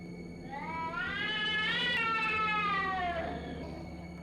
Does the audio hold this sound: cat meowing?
yes